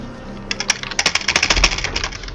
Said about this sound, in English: Sorry if my keyboard is loud also.